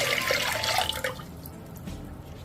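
Water poured onto sugar in a pot to make syrup, a soft splashing trickle that is quiet and brief, fading away after about a second into faint room hiss.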